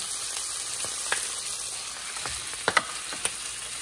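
Pork and chicken grill on a pan, giving a steady close sizzle with a few sharp crackles and pops near the end and no talk.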